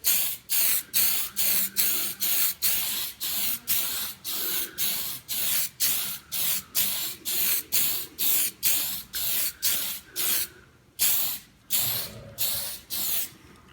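Spray paint hisses onto a toy Leia blaster as a light first coat goes on, in about twenty short, evenly spaced bursts. The bursts are close and crisp, with a brief pause near the end.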